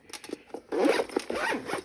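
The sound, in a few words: zipping up laptop accessory bag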